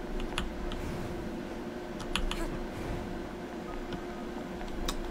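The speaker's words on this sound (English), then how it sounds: "This keyboard sounds from music to my ears, ASMR." Steady computer keyboard typing with scattered sharp key clicks over a constant low game hum, at a moderate level throughout with no speech.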